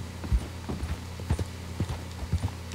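A horse in the video game Red Dead Redemption 2 clip-clops away on hard ground, a series of distinct hoof thuds in an uneven gait that stay fairly close and clear with no voices over them.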